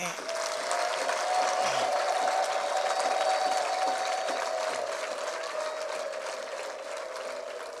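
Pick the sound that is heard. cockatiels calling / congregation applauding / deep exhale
congregation applauding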